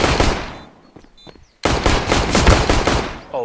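Pistol gunfire in a 1v4 video game round, dense bursts of loud rapid shots echoing, with a brief lull before another heavy volley.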